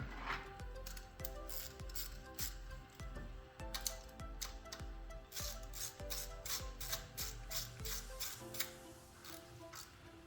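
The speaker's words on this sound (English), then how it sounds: "And then come back in with the ratchet." A hand ratchet tightens the spark plugs of a 2023–2025 Chevy Trax with a 1.2L turbo three-cylinder engine. It gives a steady series of close, crisp clicking strokes at an even pace the whole time, with a faint background hiss.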